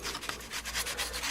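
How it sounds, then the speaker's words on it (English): Sandpaper rubs by hand over a surface in quick back-and-forth strokes, a close, rhythmic scratchy rasp repeating several times a second without pause. "sanding down the area about the size that I wanted"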